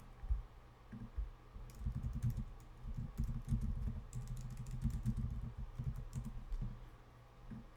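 Steady typing on a computer keyboard, a continuous run of close, soft key clicks with brief pauses, while someone enters a search phrase into a keyword tool.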